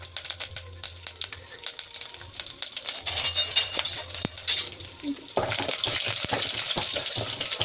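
Cumin, two byadagi chillies, curry leaves and crushed garlic sizzle and crackle in hot oil, with stirring clatter and a louder burst of frying near the end.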